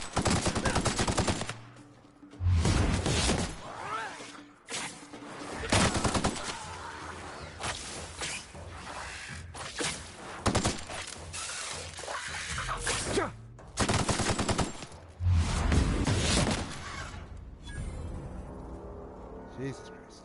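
Gunfire in the video game The Outer Worlds, repeated loud bursts of automatic shots separated by brief pauses, with game ambience and a voice in between.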